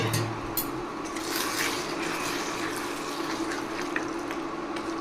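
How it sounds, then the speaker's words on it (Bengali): Water poured into a pan of Bengali chicken curry with potatoes during cooking, a short steady splashing pour close by, fairly soft and heard alone. "এবার অ্যাড করছি অল্প একটু জল কষানোর জন্য"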